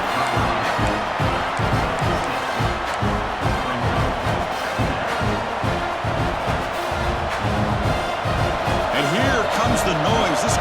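Dense, roaring stadium crowd at a college football game against Miami, steady and loud throughout as fans build noise for a red zone defensive stand, with commentary voices running underneath.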